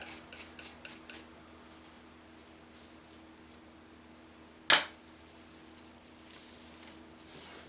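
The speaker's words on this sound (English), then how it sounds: "let me give my knife a wipe" A knife is wiped clean with a few quick, quiet rubbing strokes at the start, followed by silence and a single sharp click of the blade against a surface.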